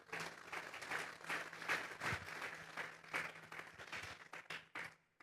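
Congregation applauding during a church service, a steady wash of many hands clapping at moderate distance, fading toward the end.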